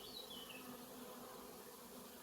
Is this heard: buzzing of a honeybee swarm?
yes